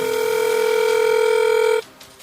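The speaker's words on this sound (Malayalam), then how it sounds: "sir ദാമോദർജിയുടെ phone" A telephone rings with one sustained electronic tone that cuts off abruptly, leaving a quiet room behind.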